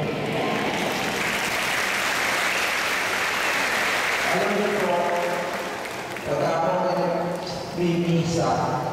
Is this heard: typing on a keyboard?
no